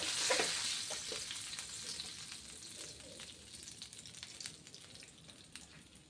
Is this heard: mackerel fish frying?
yes